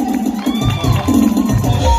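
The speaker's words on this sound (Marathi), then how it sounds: "जोरदार टाळ्या वाजवा" Audience cheering and shouting at a live shahiri folk-song performance, a loud close crowd roar rising in waves with excited children's voices mixed in.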